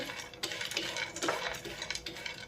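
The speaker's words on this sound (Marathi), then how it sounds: "तूप गरम झालं की त्याच्यात टाकायचे बारीक कट केलेले ड्रायफ्रूट्स आता हे याच्यामध्ये भाजून घ्यायचे" Chopped dry fruits roast in hot ghee in a frying pan over low heat, giving soft continuous crackle and scraping with scattered bright clinks of a spoon against the pan.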